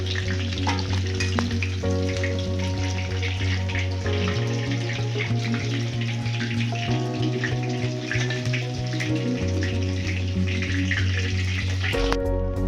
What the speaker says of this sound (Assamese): মাংসটো ফ্ৰাই হৈ গ'ল।